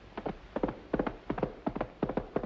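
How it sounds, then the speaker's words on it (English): Rhythmic clip-clop of horse hooves in a steady galloping pattern, repeated clusters of sharp knocks, fairly close and clear. "That's the gallop of the horse"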